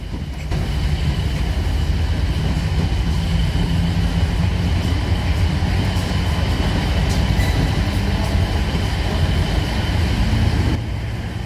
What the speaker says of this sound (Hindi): हुसैनपुर रेलवे स्टेशन से जालंधर के लिए रवाना होते हुए हम और हमारी ट्रेन